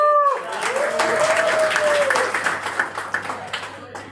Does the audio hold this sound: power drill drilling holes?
no